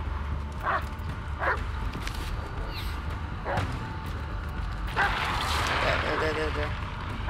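A dog barks several times in the Blair Witch video game, sharp yips spaced apart over a steady ambient background, with someone talking throughout.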